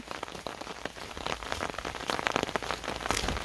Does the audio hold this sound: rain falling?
yes